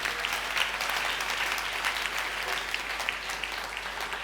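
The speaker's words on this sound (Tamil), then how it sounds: "உற்சாகமா கைத்தட்டி ஆட." A church congregation claps steadily and enthusiastically at a Sunday service, dense continuous applause filling the room at moderate loudness with no clear talk over it.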